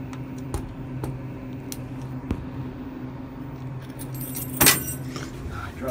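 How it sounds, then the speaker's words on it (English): Keys drop and jangle in a Thyssenkrupp Signa4 elevator: one brief metallic rattling burst near the end, over the steady low hum of the running elevator motor. "I dropped my own keys,"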